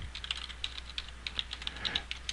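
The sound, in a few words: typing a command on a computer keyboard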